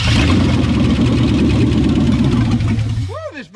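1963 Ford Galaxie 500 with a 390 V8 runs at a loud, rough, steady idle up close, then the engine note drops away near the end as a voice begins to speak.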